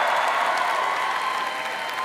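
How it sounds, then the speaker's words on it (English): An audience at a talk claps steadily as a dense, even wash of applause that holds at a constant level without a break. "he was clapping"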